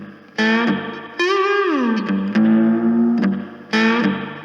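A three-string cigar box guitar plays a slide blues riff, its notes gliding up and down between sustained, distorted, reverberant chords, loud and close with no voices.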